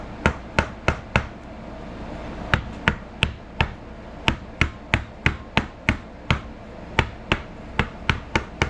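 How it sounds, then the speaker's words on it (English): Wooden mallet hammering on a wooden kitchen set piece during woodworking, a long series of sharp, crisp strikes in an irregular but steady rhythm, close and loud with no talking. "Take our wooden mallet."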